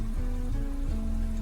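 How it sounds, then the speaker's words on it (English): Light drizzle falls outside on a damp, cloudy winter night, a steady soft patter with no pauses, mixed with a constant low hum. "I think it's drizzling."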